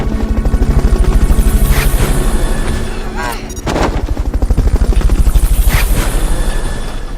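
Loud, rapid rotor chopping of a helicopter in the video game Metal Gear Solid: Peace Walker throbs steadily throughout, with a brief whooshing swell midway and a rumbling undertone.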